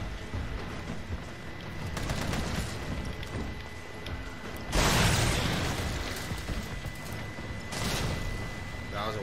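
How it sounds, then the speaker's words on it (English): A grenade explodes amid bursts of video-game gunfire, a dense run of loud blasts and pops with a heavy boom near the middle and another burst toward the end, under a player talking. "That was a waste of a grenade."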